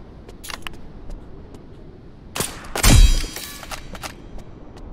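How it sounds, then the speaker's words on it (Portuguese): Gunfire in the shooter game Lost Light on the Mt Akayama map: a sharp shot crack followed half a second later by a louder, booming report with a ringing metallic tail. Both are close and loud over quiet ambience. "Tiro de algum lugar."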